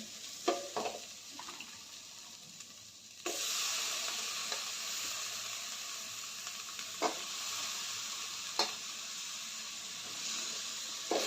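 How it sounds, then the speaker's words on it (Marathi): Eggplant pieces dropped into hot oil with turmeric in a pan, a steady close sizzle and hiss with occasional scraping stirs and spoon taps throughout. "आपण चिरून ठेवलेल्या वांग्याच्या फोडी घालते मी यामध्ये"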